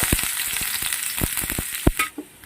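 Garlic slices frying in one to two ladles of hot oil in a heated pan for a chivli greens dish: a continuous bright sizzle broken by sharp clacks of stirring, with no voices.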